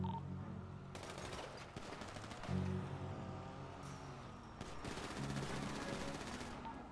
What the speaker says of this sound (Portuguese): Olha a troca de tiro.